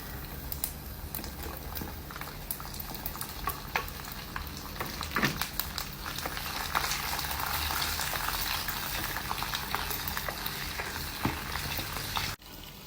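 Onion and anchovies frying in hot oil in a pan for idi sambal, a steady sizzle and crackle with occasional stirring scrapes and clinks, close and continuous, cut off abruptly near the end.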